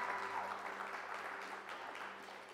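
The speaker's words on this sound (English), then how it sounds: "Give the Lord another hand clap of praise today." A church congregation claps in praise during a Sunday morning service, a soft, scattered round of hand clapping heard from a distance over a low steady hum.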